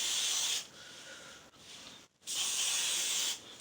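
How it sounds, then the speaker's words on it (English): Spray sheen misted from an aerosol can onto the scalp among locs, in two long hissing bursts, close and loud, separated by a short pause. "Just take my spray sheen and go in"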